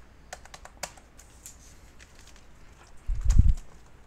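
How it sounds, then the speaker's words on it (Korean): Computer keyboard being typed on during a PC strategy game, a few scattered sharp clicks and taps followed by a louder thump of handling noise, fairly close with no talking. "키보드가 왜 이렇게 작동을 안 할까?"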